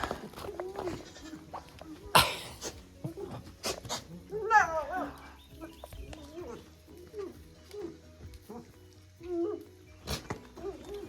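Farm goats bleat repeatedly in short, scattered calls close by, mixed with frequent talking and some louder bursts.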